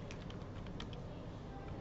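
Quiet typing on a computer keyboard, a handful of light irregular key taps over a steady background hiss.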